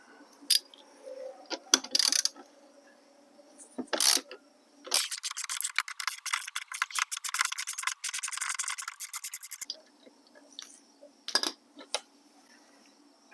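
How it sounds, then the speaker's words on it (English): A 14mm socket on a ratchet removing a front seat bolt in a Honda Civic, with a long run of rapid, close ratcheting clicks in the middle, set between scattered metallic clanks and rubbing sounds, with no talk. "we're going to remove this bolt, again using a 14mm socket."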